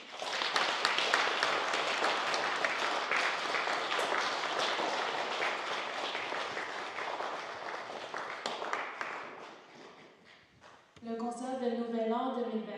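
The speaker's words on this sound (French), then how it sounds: "给他们带来掌声鼓励。" A concert audience at a Lunar New Year music event gives loud, sustained applause with dense clapping up close. The clapping fades after about ten seconds, then a voice begins speaking.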